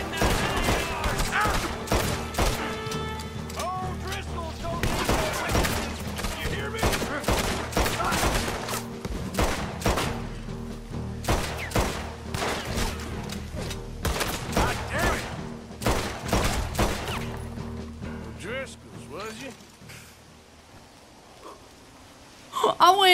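A sustained Red Dead Redemption 2 shootout with rapid, loud, overlapping gunshots in dense volleys that thin out toward the end, with voices and game ambience underneath.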